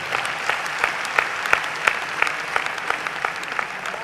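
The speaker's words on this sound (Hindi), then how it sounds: "आपकी तालियां।" At a Lions Club kavi sammelan poetry gathering in Howrah, the audience applauds. Steady crowd clapping is punctuated by regular, rhythmic accented claps from a few nearby hands.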